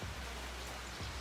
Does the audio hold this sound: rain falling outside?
yes